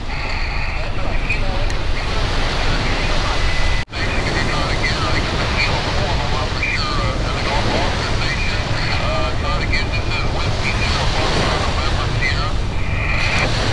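Surf rolls onto a beach at Virginia Beach, Virginia, as a constant loud wash of breaking waves mixed with wind buffeting the microphone, with a voice faintly underneath.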